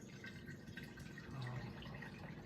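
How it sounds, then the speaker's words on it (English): Sanitizing solution pours from a gallon jug into jars, giving a soft, continuous liquid trickle and splash that stays faint and steady throughout. "just take your gallon and pour it into your jars"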